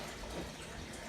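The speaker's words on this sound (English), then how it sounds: "we're beginning to fill up tanks with water again" Water gushes into fish tanks in a basement fish room, a steady, broad rushing hiss at moderate distance, with no pauses.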